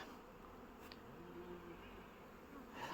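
Bees at an apiary give off a steady, low, continuous working hum, faint and even throughout, with no voices over it.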